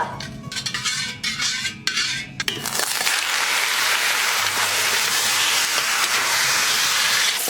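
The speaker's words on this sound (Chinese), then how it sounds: "排骨上的水分炒干，油炒出来" Pork ribs stir-fried in a wok to drive off their water and render the fat. Utensils clink and scrape for the first few seconds, then a loud, steady sizzle and hiss takes over and holds to the end.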